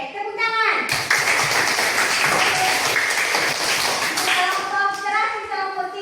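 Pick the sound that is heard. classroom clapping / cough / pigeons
classroom clapping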